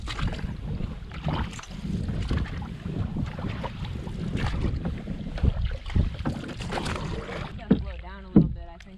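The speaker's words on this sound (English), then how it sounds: "We paddle on into the windy lakes" Canoe paddling on a windy lake in the Boundary Waters wilderness, with steady wind buffeting and water sloshing against the hull, a few sharper splashes near the end.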